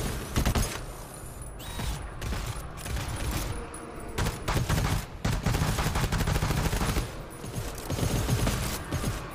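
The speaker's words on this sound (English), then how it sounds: "Man, having this machine gun back feels so good." Rapid automatic machine-gun fire in a shooting video game, dense sustained bursts of gunshots close up and loud, with brief gaps between volleys and mechanical clanks.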